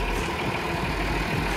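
Massey Ferguson 698 tractor engine idling steadily with a low, even rumble, close and continuous throughout with no talk over it.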